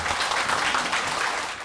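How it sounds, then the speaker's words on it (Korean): Applause from a seminar audience in Korea greeting a speaker stepping onto the stage at a health talk on bladder cancer treatment, a steady wash of clapping that holds for under two seconds and fades slightly at the end. "큰 박수 부탁드리겠습니다."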